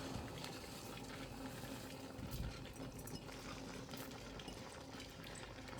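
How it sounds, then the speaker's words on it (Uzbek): Water boils in a cooking pot ahead of making plov, a faint, steady bubbling hiss that runs evenly throughout. "Suvni qaynatib qo'yibman."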